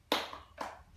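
A group gives a rhythmic encouragement clap during an Indonesian training session on child neglect and exploitation: two sharp, close claps about half a second apart, the first louder, with no talk over them.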